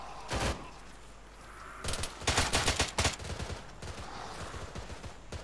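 ARMA 3 video game automatic gunfire crackles in short bursts and longer rapid volleys, fairly faint and slightly distant, spread across a few seconds with no talking.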